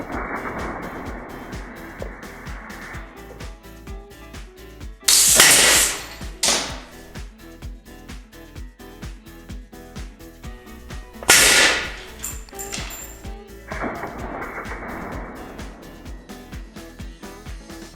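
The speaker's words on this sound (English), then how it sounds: "we're gonna test each pair of eyewear against a nail gun" A nail gun fires at safety glasses, giving two sharp, loud bursts several seconds apart, each followed by a brief rattle over a steady background.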